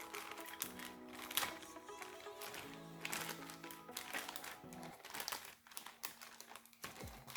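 Clear plastic bag holding parts of a Revell Grogu (The Child) model kit being handled, with quiet crinkling and rustling in irregular bursts, close and soft.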